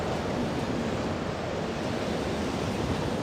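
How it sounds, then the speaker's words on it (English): Steady, even wind rushing across an outdoor landscape in the game Morrowind, a constant broadband hiss with no gusts or breaks, moderately quiet and alone. "A little windy."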